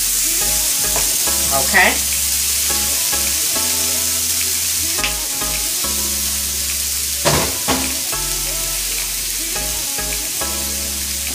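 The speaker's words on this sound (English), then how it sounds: "I am going to add those right on here, right on the griddle with our onion" Baby portobello mushrooms and onion fry on a hot griddle with a steady, loud sizzle. Scrapes of stirring break in now and then, and a voice briefly says a word.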